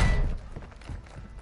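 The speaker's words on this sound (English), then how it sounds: "I hear him stomping around" Heavy enemy footsteps stomp around somewhere nearby in the Rainbow Six video game, a run of muffled, low thuds that blur into a dull rumble, loudest at the start and fading slightly.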